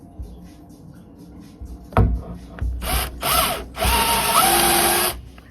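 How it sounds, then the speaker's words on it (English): A knock and some mechanical clicks, then a power drill with a Forstner bit whirs in several short bursts, ending in a longer sustained run as it bores a flat-bottomed hole into wood. "We're going to drill that flat bottom hole"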